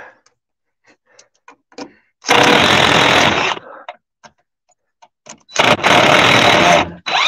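Cordless screw gun backing screws out of boards while building a chicken coop: two loud bursts of whirring drive noise, each lasting one to one and a half seconds, separated by quiet gaps with small clicks and handling taps.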